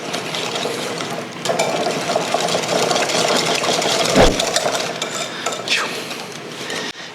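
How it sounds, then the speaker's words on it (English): A whisk beats ranch, lime juice, garlic and pepper together into a dressing in a bowl, a steady close scraping and clattering that runs throughout, with a light knock near the end. "all we're gonna do is we're gonna give this a nice whisk"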